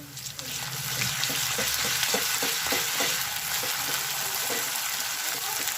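Steady loud sizzling of ginger garlic paste frying with onions in a pan, with faint scraping strokes as it is stirred, continuous throughout with no talking.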